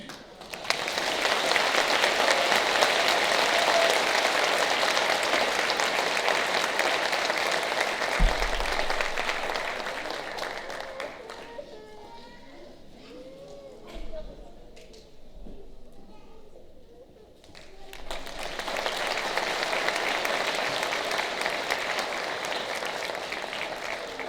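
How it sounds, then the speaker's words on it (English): Middle school audience at an eighth grade moving-up ceremony claps in a long sustained burst, then fades to a quieter stretch with scattered voices and a few thumps before a second strong wave of applause swells back. "one more round of applause for our reflector speakers"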